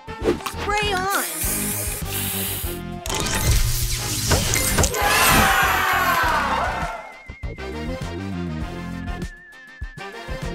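Spray booster effect from the Match Masters mobile puzzle game, a busy burst of bright hissing, sparkling and crashing game sounds with jingly tones, loud and continuous over a few seconds before settling into lighter chimes.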